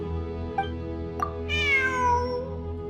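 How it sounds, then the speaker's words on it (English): A cat meows in the Genshin Impact video game, two short chirps followed by a longer, drawn-out meow, loud and close over a steady humming musical background. "I'm not hearing things. It really is a cat."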